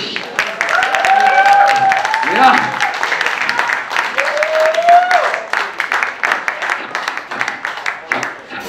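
An audience claps and cheers at a live rock band concert, the applause swelling under sustained feedback-like tones and voices, then thinning into scattered claps toward the end.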